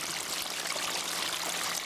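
A backyard waterfall beside a porch gives a steady, even rush of falling and splashing water, close and continuous with no voices.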